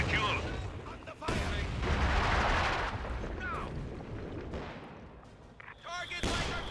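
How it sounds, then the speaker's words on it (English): Light artillery barrage in a real-time strategy game: dull booming impacts and blasts roll under in-game radio voices and a player talking, with a sharp crack near the start and more clustered explosions toward the end. "Target light artillery barrage."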